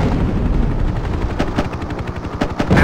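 A helicopter's 30mm cannon fires in the Hind combat game, a rapid loud burst of repeated heavy shots over a steady rotor drone, close and continuous.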